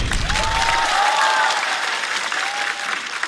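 Studio audience at a stand-up comedy show applauds a performer named Harry, a dense, steady wash of clapping that stays loud throughout with a few faint whoops rising above it.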